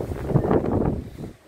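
Strong gusty wind before a rainstorm roars in the dry backcountry of the Brazilian sertão, buffeting the microphone with loud, rumbling low-frequency rushes that ease off at the end.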